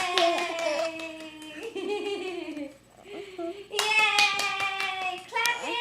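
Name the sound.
hands clapping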